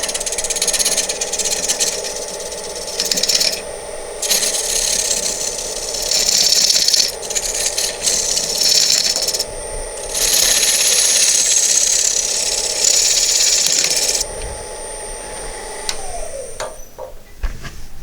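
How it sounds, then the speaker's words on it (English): Square scraper working wax inside the recess of a turned wooden bowl on a lathe, a gritty intermittent scraping in bursts over the steady hum of the running machine, which winds down near the end. "So I'm just going to take a square scraper"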